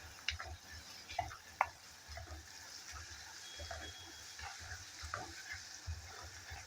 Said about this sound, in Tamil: பூண்டும் இஞ்சியும் நல்லா வறுபடணும்.